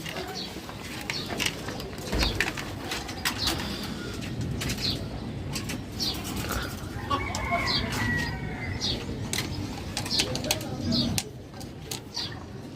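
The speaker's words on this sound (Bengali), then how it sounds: "ওই এই পাশে তো কবুতর আছে" Pigeons coo in a Dhaka pet and bird market, a soft rolling cooing under nearby chatter, with scattered chirps and clucks from other birds around.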